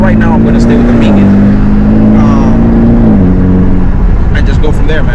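A BMW 430i Gran Coupe with the B48 engine and an aftermarket Megan exhaust hums at a steady low drone with a slight rise and dip in pitch, running loud and close under continuous talking.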